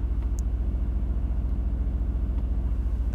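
Mercedes-AMG GT R Roadster, a 2020 model, idling with its exhaust set to quiet mode: a steady, subdued low rumble close by, even and unbroken with no talking.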